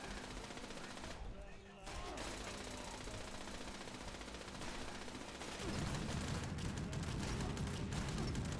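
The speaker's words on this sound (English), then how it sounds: "Something's shooting this way." Gunfire in the video game New World, a sustained rattle of rapid automatic shots that continues with a short dip and then grows louder and denser, under occasional talk.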